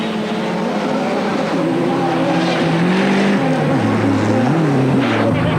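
A BMW race car's engine howls loudly at the Chamonix 24-hour ice race, pitch rising and dropping through gear changes and throttle shifts, a continuous close roar with faint commentary underneath.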